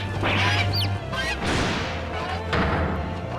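Cartoonish chicken and chick sound effects from The Great Ace Attorney Chronicles video game: loud, busy squawking and clucking bursts packed together over a constant game backdrop, with a few high whistling chirps.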